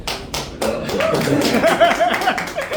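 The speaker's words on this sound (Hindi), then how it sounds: "रिलेटेबल हो तो ताली ज़्यादा बजा रहा हूँ" Several sharp hand claps at first, then a looser run of claps and taps under someone talking and soft singing voices, at an informal gathering in Delhi.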